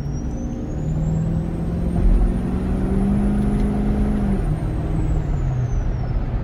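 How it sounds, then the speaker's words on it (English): A diesel truck with compound turbos pulls hard at about three-quarter throttle while merging onto an interstate, a loud, steady engine drone with a rising turbo whine heard from inside the cab. "That was about 3/4 throttle, something like that. Just emerged onto the interstate here."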